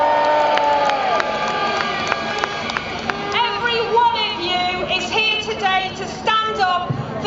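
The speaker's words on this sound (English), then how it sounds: "Give yourselves a big cheer." Large crowd at a march against austerity cheering and whooping loudly outdoors, a swelling roar with shouts and a few scattered claps, over an amplified ringing hum.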